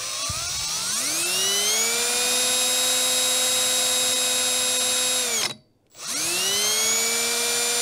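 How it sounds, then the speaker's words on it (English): A power drill boring a front sight hole into a Smith & Wesson revolver, a loud steady high whine that spins up, holds, briefly cuts off, then starts again, heard up close and alone. "Even pressure on the drill."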